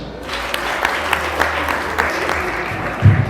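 Hands clapping at a wedding celebration, a steady, dense round of applause from a gathered crowd that runs throughout and swells slightly at the end.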